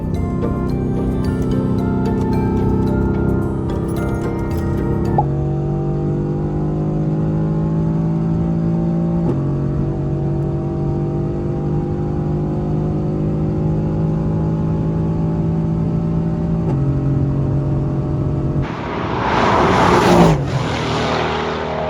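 A Mercedes-AMG GT R accelerating at very high speed on the Autobahn, a loud, continuous engine howl inside the cabin that climbs through a few gear changes, ending in a burst of wind and road rush.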